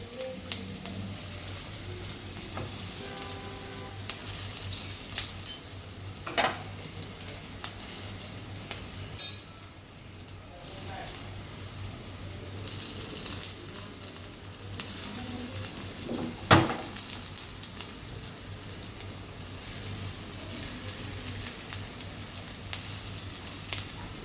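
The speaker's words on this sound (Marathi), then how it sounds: "तर तेल तापलं, त्याच्यामध्ये या वड्या टाकायच्या. त्याला तळायचं नाही म्हणून आपण या फक्त तेलामध्ये फ्राय करणार आहे." Kothimbir vadi, coriander fritters, shallow frying in hot oil, a steady soft sizzle and crackle with occasional clinks of a utensil against the pan.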